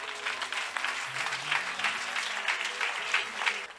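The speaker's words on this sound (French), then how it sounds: "Au nom de Jésus, acclamons le Seigneur." A church congregation at a French-language Sunday service breaks into a short burst of steady applause, with a voice speaking over it.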